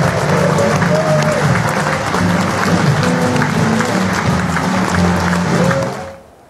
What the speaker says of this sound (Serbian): Ekipa predstave je na kraju nagrađena burnim aplauzom.